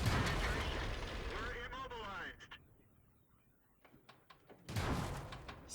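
Tank cannon fire in World of Tanks from an Object 416 tank destroyer: someone talks at first, then after a quieter stretch a single loud, sharp boom bursts out near the end.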